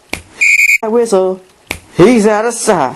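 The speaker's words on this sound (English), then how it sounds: "But when he hears that whistle," A whistle gives one short, shrill, steady blast near the start, followed by a person talking briefly and a few clicks.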